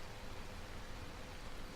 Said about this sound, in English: Since it is raining out, you can collect some rainwater with your water bottle.